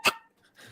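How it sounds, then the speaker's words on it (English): A single sharp, high dog bark or yip close by, followed by a faint whimpering trail; no talking. "Can you hear that dog? It sounds like a squeaky faucet."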